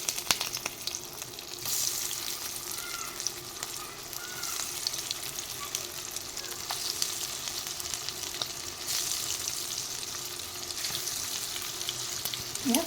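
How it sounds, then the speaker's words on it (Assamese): Eggs fry in hot oil in a kadai, a steady bright sizzle with crackling spatters running throughout at moderate volume, no talking. "ইয়াতে মই কণীখিনি এতিয়া অলপ অলপ ফ্ৰাই কৰি লওঁ"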